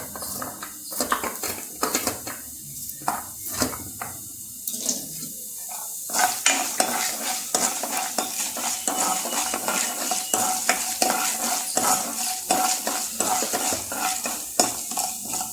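Small pieces of coconut being sautéed and stirred in a pan alongside ridge gourd peel, garlic and shallots, with a busy stream of scraping, clinking utensil strokes over a steady sizzle, close and fairly loud, with no talk.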